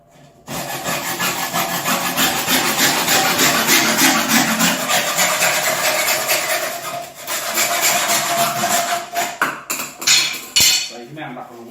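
Steady back-and-forth sawing through a flush pipe while fitting a toilet cistern, loud and continuous for most of the stretch, then breaking into a few separate strokes and scrapes near the end.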